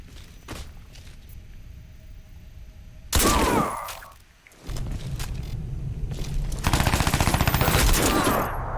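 Automatic weapons fire in Crysis 2 Remastered: a loud, sharp burst breaks in after quieter ambience, fades, then returns as sustained rapid volleys of gunshots near the listener.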